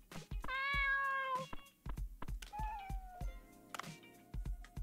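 A cat meows repeatedly in the video game Dave the Diver, drawn-out, clear and close cries with short gaps between them, sounding alone with no talk.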